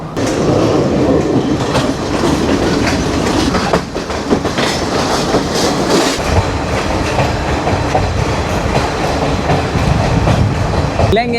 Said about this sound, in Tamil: காலையில் அழகான புகையிரத பயணத்தில் கொழும்புல இருந்து நோக்கி போகிற இந்த எக்ஸ்பிரஸ் புகையிரத பயணம்